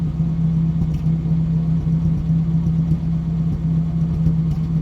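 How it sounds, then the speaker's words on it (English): A 1948 Packard straight-eight engine idles with a steady, low rumble, a faintly uneven, lumpy beat from a weak cylinder running through the drone. "It does sound like we have a weak cylinder still in the exhaust, if you listen."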